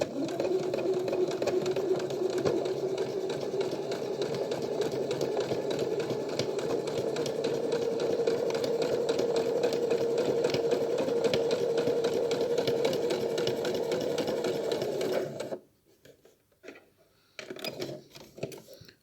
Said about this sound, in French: et faire une couture tout autour. Donc pareil, au point droit.